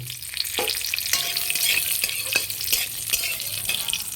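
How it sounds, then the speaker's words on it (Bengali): Cashew nuts frying in melted ghee, a loud, steady close sizzle with repeated scraping stirs of a utensil through the pan. "ঘিটা গলিয়ে নিয়ে আমি এই কাজু বাদামগুলো ভেজে নেব"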